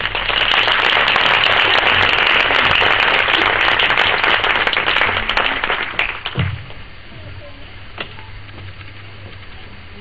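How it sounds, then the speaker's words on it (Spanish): Audience applause at an evening poetry reading, dense steady clapping for about six seconds that then thins out and fades into quiet. "Un aplauso, por favor."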